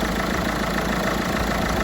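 A Peugeot 307 with a 1.6 HDi diesel engine idles with a steady, even rumble, heard close up with no talk.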